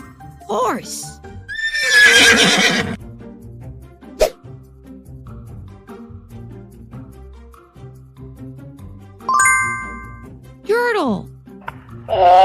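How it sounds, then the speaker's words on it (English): A cartoon horse lets out a loud, shaky whinny early on, followed by quieter cartoon sound effects and later a couple of rising, warbling squeals near the end, with no talking over it. "Horse."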